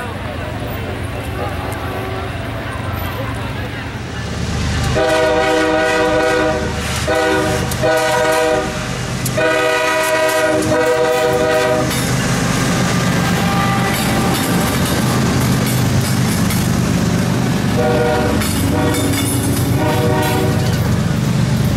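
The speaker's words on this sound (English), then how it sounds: "A train is coming." A train rumbles past close by in Waxhaw, North Carolina, sounding its horn in several long blasts, with wheels clattering on the rails and a loud roar throughout.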